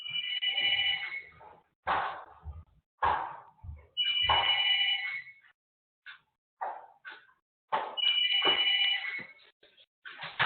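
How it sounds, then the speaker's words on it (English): A telephone rings in three loud electronic bursts spaced about four seconds apart, with shorter thumps and noises scattered in the gaps between. "telephones ringing in the background."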